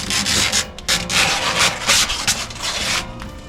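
Protective vinyl film being stripped off a glittering, scale-patterned chrome truck muffler on a home-built art truck, a close, continuous scratchy rustle and crinkle that surges in repeated bursts over three and a half seconds.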